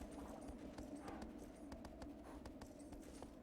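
A horse trots in Shadow of the Colossus, its hooves clip-clopping in a steady rhythm at moderate volume over a quiet ambient drone, with no talking.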